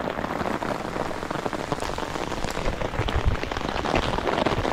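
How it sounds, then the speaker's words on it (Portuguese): Steady rain patters loudly and continuously on surfaces close by during a river fishing trip on the Mogi Guaçu, a dense hiss with scattered drop impacts and no talking. "oh, chuva!"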